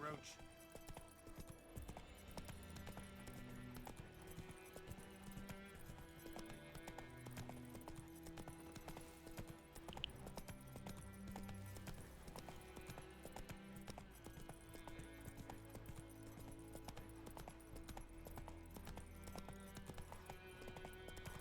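Video game horse Roach trotting with steady clip-clop hoofbeats under game music and ambient sound, while someone talks over it.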